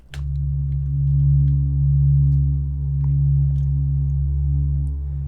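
A sustained stretched soprano synth tone with steady low harmonics, softly swelling and washed in long reverb, with faint sparkling highs drifting above.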